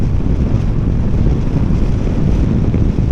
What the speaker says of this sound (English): I think I've just realised why it's so windy as well, because I've got the screen down